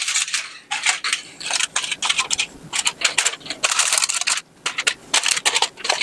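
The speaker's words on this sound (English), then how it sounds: "So I'm just turning up the edges of the foil a little bit." Aluminum foil crinkling as its edges are turned up on a toaster oven tray, a close run of crisp, irregular crackles and rustles that stop briefly and then resume, with no talking.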